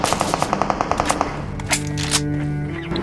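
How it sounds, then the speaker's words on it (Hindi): Automatic gunfire in a battle royale shooter video game: a close, rapid burst of about a dozen evenly spaced shots in just over a second. A few heavier reports and a sustained humming tone follow. "तो आगे से फायरिंग आई"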